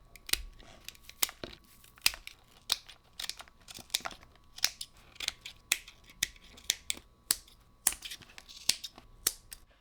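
Sharp, crackling snips and tears ring out at a steady uneven pace while a Sony WH-1000XM3 headband is pried and torn apart for a leather re-covering job, each burst close and crisp over a quiet room.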